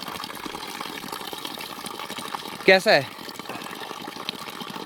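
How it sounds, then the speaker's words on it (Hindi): Cold spring water runs from a dhara, a traditional spout in an Uttarakhand village, in a steady, soft rush; a voice briefly speaks partway through. "तो ये रहा दोस्तों धारे का ठंडा ठंडा पानी"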